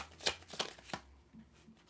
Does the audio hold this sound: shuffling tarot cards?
yes